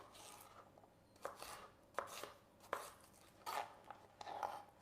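A knife chops celery into thin strips on a board, giving about seven quiet, crisp cuts in an uneven rhythm with faint rubbing between them.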